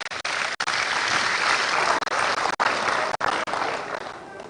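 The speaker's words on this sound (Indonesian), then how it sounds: "tepuk tangan dulu untuk adik-adik kita" Loud, full applause from a large audience at an Indonesian stunting-prevention event, cheering for the children. It runs continuously with several abrupt brief dropouts, and eases off slightly at the end.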